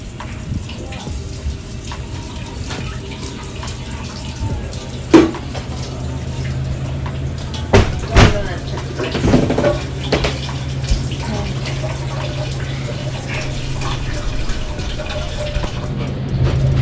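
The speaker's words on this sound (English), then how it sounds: "we're just gonna pour some more water right in on top of it" Water pours into a jar of home-canned mixed greens, a steady splashing fill that runs throughout with a few louder clinks and gurgles near the middle.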